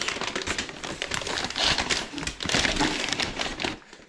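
Wrapping paper crinkling and rustling continuously, close up, with bursts of crackly crumpling throughout and no voices.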